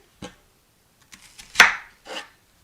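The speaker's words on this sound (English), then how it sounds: "I'm also going to need to cut my onion." A knife chops through half an onion on a board: a single sharp cut, then a few lighter taps and one loud, crisp chop followed by another, close and clear with quiet gaps between.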